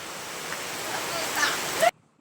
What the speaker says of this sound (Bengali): গাইস দেখুন বৃষ্টি কত জোরে